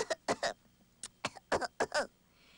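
In a narrated PlayStation storybook game, a voice imitates a pretend cough: a string of short, soft, breathy bursts grouped in quick twos and threes, close and fairly quiet.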